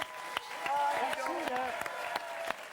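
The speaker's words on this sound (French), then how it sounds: "On applaudit les Baudins" A studio audience applauds on a French television show, scattered claps under people talking and laughing close by, brief and moderately loud.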